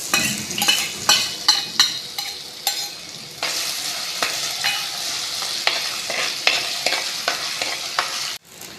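Crushed ginger and garlic fry with green chillies in hot oil, a bright sizzle with repeated close spatula scrapes and stirring clatter, ending in a sudden brief drop.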